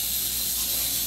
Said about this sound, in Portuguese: enquanto uma panela de pressão canta